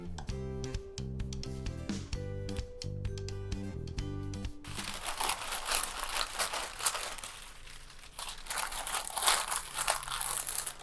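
Close crinkling and crackling as pie dough for a vegan and paleo pumpkin pie is wrapped in a reusable wrap instead of plastic, busy in the second half after a stretch of background music.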